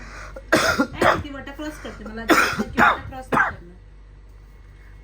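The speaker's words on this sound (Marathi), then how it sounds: "खोकलाच जात नाही" Several harsh coughs come in two close bursts, loud and near, followed by quiet.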